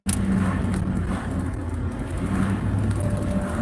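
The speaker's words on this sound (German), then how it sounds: "Wir fahren jetzt geradeaus in die Stadt rein." A truck drives straight ahead into town, its steady low engine rumble and road noise continuous and fairly loud, with no talking heard.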